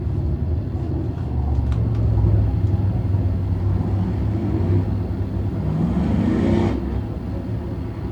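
A field of race cars rumbles behind a pace truck at Can-Am Speedway, a steady low engine drone that swells and fades as they pass, heard at a distance with no talk.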